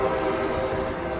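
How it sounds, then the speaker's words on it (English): A northbound Coaster commuter train passes Santa Fe Depot, its steady loud rumble and rail noise filling the scene up close with no voices. "And there goes that coaster northbound Oceanside."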